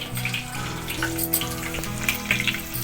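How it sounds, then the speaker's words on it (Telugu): Green chillies fry with cumin seeds in a hot pan, a steady loud sizzle that hisses throughout with a few crackling pops. "వేసి వేయించుకుంటున్నాను. పచ్చిమిర్చి అయితే వేసేసుకుంటున్నాను."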